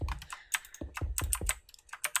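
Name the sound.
typing on a mechanical keyboard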